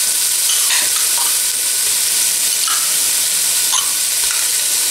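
Tomato paste and shallots sauté in a pan for a seafood chorba, sizzling with a loud, steady frying hiss and occasional stirring scrapes, with no voices.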